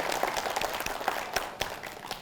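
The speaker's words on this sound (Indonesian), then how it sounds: "Tepuk tangan buat Bank Sumut Syariah ya." An audience at a religious study gathering on Islamic economics claps for Bank Sumut Syariah in scattered, fairly faint applause with a few sharper individual claps standing out.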